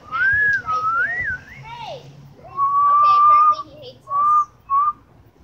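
A person whistles a wavering, sliding tune in a few short phrases, with quieter background voices and rustling underneath.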